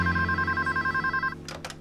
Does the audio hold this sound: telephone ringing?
yes